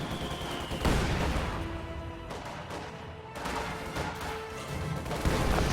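Mortar and small-arms fire in a WWII real-time strategy game battle, scattered muffled booms and crackling shots at moderate distance over a steady busy battlefield din.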